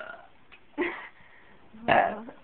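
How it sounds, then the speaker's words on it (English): A person lets out two short, soft burps on command, each a brief throaty gulp separated by quiet pauses, close to the mic. "I gotta burp now."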